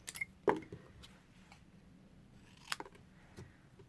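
Scissors snip through a scrap of card in a quiet room, one sharp cut early and a couple of softer snips later, each short and crisp with faint rustling between.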